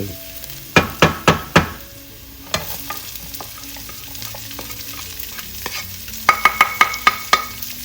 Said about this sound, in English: Brown that up a bit.